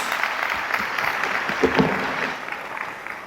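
Audience applause at an arts career management congress, a steady mid-level patter of many hands clapping in a hall that holds evenly for a few seconds and then eases slightly.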